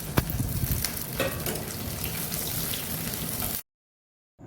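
Chopped onion, garlic and green chili frying in a pan, a dense steady sizzle with occasional sharp pops and stirring scrapes, close and loud, cutting off abruptly into silence near the end.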